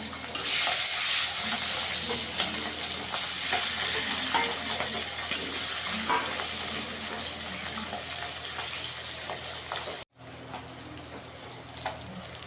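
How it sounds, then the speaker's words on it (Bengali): Fish sizzles and crackles steadily in hot oil, a continuous frying hiss close up, with occasional stirring clinks. "এবার বাকি মাছগুলো ভেজে নেব"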